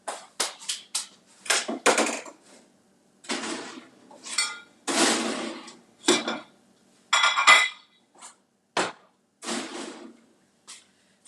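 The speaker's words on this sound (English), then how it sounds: "Let me open up my air fryer." An air fryer opens and food is set on a foil-lined sheet, giving a run of close metallic clanks, rattles and crinkly scrapes in uneven bursts, with no talking.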